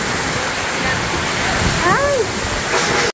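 Strong, typhoon-like wind roars steadily and loudly across open farmland with flooded rice fields, forming a dense continuous rush while a voice speaks briefly over it.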